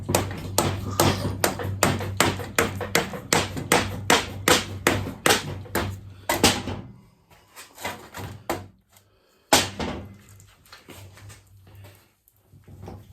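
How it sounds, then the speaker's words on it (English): A rubber hammer taps on the sector shaft of a Toyota steering box in a fast, steady run of dull knocks, then slower, more scattered blows after a pause, close by. "Take your rubber hammer."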